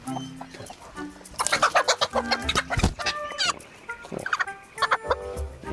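A chicken on a veterinary visit clucks in several bursts of irregular, fairly close calls, with quieter gaps between them and no talk over it.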